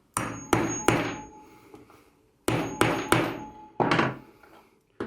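Hammer pounding a metal grommet set on an anvil for a lighter keychain attachment, six loud ringing strikes in two groups of three, each with a short metallic decay, with no talking.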